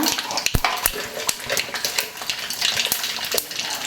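Mustard and fenugreek seeds sizzle and crackle in hot tempering oil with dried chillies nearby, a dense close hiss broken by sharp pops and spatters, alone.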